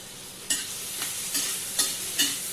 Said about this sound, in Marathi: बटर आणि तेलामध्ये हे छान परतून घ्यायचं आहे